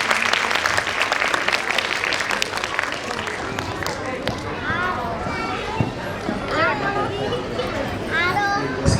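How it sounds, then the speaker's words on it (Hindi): Loud audience applause at a school annual function welcoming a guest on stage, dense crowd clapping at first that thins into scattered claps under voices and cheering. "एक बार जोरदार तालियां।"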